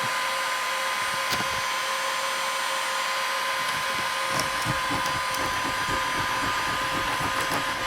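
A heat gun blows hot air continuously while old coating is stripped from the roof of a 2006 Niagara RV, a steady close whooshing drone broken by scattered scraping clicks and taps.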